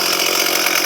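A chainsaw runs at steady high revs without the chain brake engaged, a loud, continuous buzzing roar close by.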